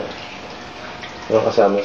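Water runs from a kitchen sink faucet in a soft, steady stream, then a louder splashing burst near the end, close by.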